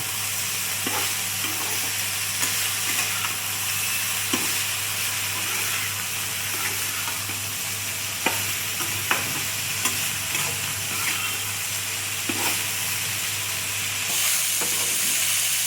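Brinjal and neem leaves fry in a pan with a loud, continuous sizzle and hiss, broken now and then by small pops and stirring clicks, close and steady.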